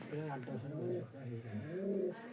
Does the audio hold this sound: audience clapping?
no